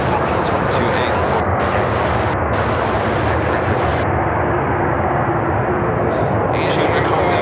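A United Boeing Dreamliner airliner descends to land at Chicago O'Hare, heard as a steady, loud, broad jet roar with no gaps, joined by faint hiss and wind noise for the whole stretch.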